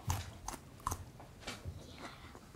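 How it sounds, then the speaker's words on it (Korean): Crisp, close crunches of someone biting and chewing red-fleshed fruit radish from dongchimi (water kimchi), with several distinct crunchy bites spread over a few seconds against a quiet background. "이 무 씹는 소리 들리세요?"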